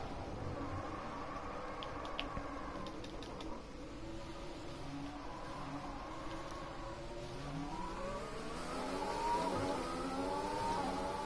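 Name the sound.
race car engine accelerating in a PS4 racing video game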